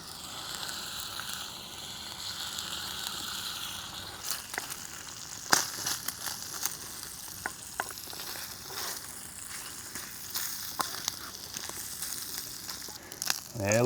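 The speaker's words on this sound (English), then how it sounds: "it's sizzling. That's a good start." Bacon sizzles in oil in a pan over a campfire in the Australian bush, a steady close crackle broken by scattered pops, scrapes and stirring clatter.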